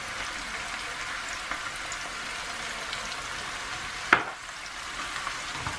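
Mushrooms with garlic fry in a pan, a soft even sizzle throughout, with one sharp scrape of a utensil stirring them near the end before the sizzle carries on.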